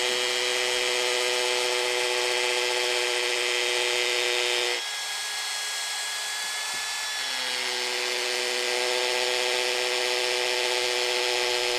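A Milwaukee M18 Fuel Gen3 drill driver runs continuously under load with a loud steady whine; its pitch dips briefly midway as the bit bites, then recovers.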